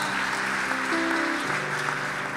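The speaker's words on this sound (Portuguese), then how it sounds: "aplauda ao Senhor e glorifica o nome dele." Steady applause from a large church congregation, a dense wash of clapping that stays loud and even throughout.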